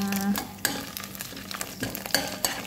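Vegetables frying in spattering oil, with scattered crackles and pops and a few sharp clicks of a utensil against the pan, close and fairly loud with no talking.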